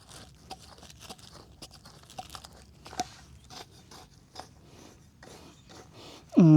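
A pet gnaws and bites on a crinkly, noisy plastic object, giving scattered close crunching and crackling clicks in irregular bursts, with a louder sharp noise at the very end.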